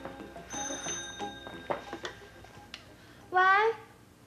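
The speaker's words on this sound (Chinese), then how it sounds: "佳青啊，电话，快点" An old-style telephone bell rings in a short bright trill indoors, following people talking over scattered household knocks and clatter.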